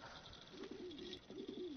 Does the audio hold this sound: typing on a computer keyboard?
no